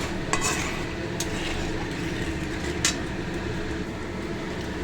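Spice paste for a Bengali Bhola fish curry sautéed in a pan over a high gas flame, a steady dense sizzle with a few sharp scraping clicks from stirring, close and continuous with no talking.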